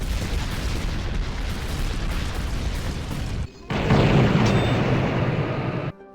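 A loud rumbling explosion in a Contra-style video game roars in dense bursts, cuts out briefly, then swells again into a heavier blast before stopping abruptly.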